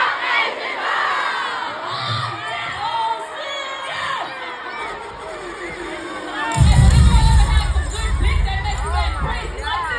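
A concert crowd in a rapper's hometown screams and chants, a dense roar of many voices that swells louder and fuller partway through, with whoops rising above the mass.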